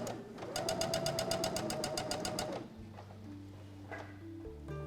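A sewing machine stitches a delicate jersey knit vest, running in a fast steady whirring burst for about two and a half seconds before stopping, followed by quieter handling sounds and a low tone.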